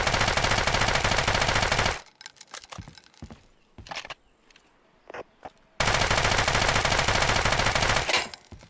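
Loud automatic gunfire from the video game Deadside, sustained bursts of rapid shots at the start and end with a quieter stretch of scattered single shots and clinks between.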